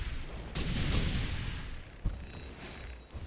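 A magic ray weapon fires in a video game and bursts into a booming explosion, sharp blasts and crackling rumbles rising at mid distance with a second thud near the end.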